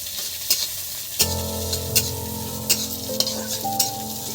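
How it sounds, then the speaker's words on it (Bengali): Green chilies, garlic and ginger fry and sizzle in a pan for a paratha, with steady hiss and a series of sharp scrapes and clinks of a utensil stirring at regular intervals, close and fairly loud, no talking. "কয়েকটা রসুন আর একটু আদা দিয়ে দিলাম বন্ধুরা ওর মধ্যে, দিয়ে একটু নেড়ে চেড়ে নেবো"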